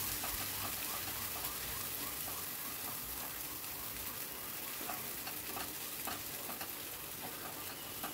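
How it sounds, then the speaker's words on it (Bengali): A paste of ground vegetable peels fries in hot oil while it is stirred and scraped around the pan. Steady, close sizzling runs the whole time, with soft spatula scrapes and clicks over it. "দিয়ে এবার এটাকে আমি ভালো করে মিশিয়ে নেব তেলের সাথে।"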